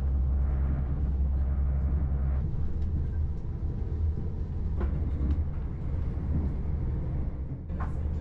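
Train on the Dublin to Rosslare single-track line, heard from on board: a constant deep rumble and rolling hum with light clatter and occasional squeaks, steady and close throughout.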